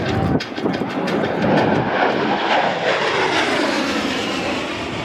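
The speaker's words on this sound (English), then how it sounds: "there's a jet going by." A-10 Thunderbolt II jet passing at an airshow, a loud, sustained roaring engine rush that sweeps through and slowly fades, heard alone.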